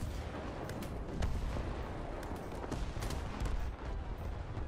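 Tank cannon fire and battle noise in War Thunder, with a KV-1B in the fight: dense, continuous rumbling gunfire with repeated sharp blasts over a steady loud background, no speech.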